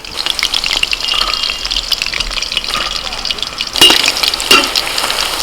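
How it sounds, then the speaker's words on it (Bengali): Chicken 65 pieces frying in hot oil give a steady, close sizzle with a couple of louder bursts as pieces are stirred or lifted out, restaurant-style home cooking. "এগুলোকে আর একটুখানি ভাজবো"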